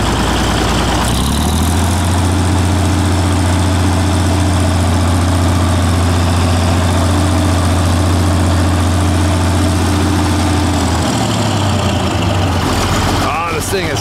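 A 6-cylinder diesel tractor engine runs loud and close while being parked, a steady low rumbling drone for most of the time, then the pitch drops and the engine winds down near the end.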